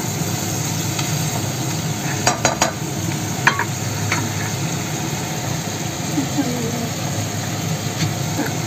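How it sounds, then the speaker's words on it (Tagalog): Eggplant with sardines sautéing and simmering in a pan, a steady sizzle under a spoon stirring through it, with a few sharp scrapes and clinks against the pan along the way. "Haluin natin ulit."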